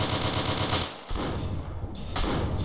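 Rapid .50 calibre gunfire in the video game DayZ, a loud sustained burst of automatic shots with a brief pause near the middle before firing resumes.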